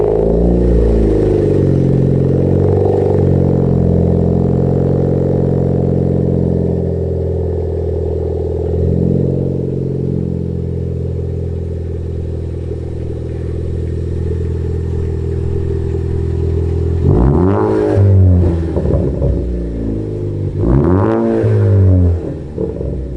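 A Ford Focus ST with an aftermarket catback exhaust idles with a deep, steady drone, then revs sharply several times in quick succession near the end, loud and close, with no talk.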